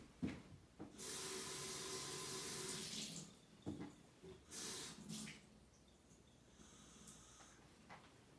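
Water pours from a half-cup measure into a measuring container in two close bursts of splashing, filling sound, then trails off into a few softer trickles and drips.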